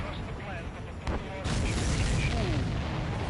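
Rumbling in-game explosions from the combat flight game Ace Combat 7 as a supply ship is shot down, a dull boom swelling into sustained low roar and debris noise at steady, fairly loud level.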